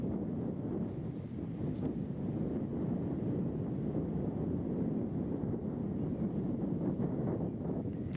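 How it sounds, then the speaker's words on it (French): Gusting wind sweeps across an open golf course during a professional tournament round, a steady low rumbling roar that swells and eases slightly without pause, with no voices over it. "cette balle dans le vent, qui souffle par rafale"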